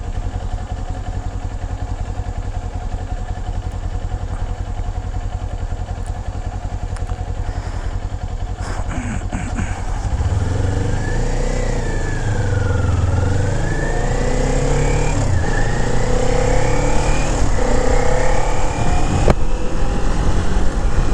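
A small 400cc motorcycle engine idles steadily up close, then revs in rising and falling sweeps, growing louder partway through, with a constant low rumble underneath.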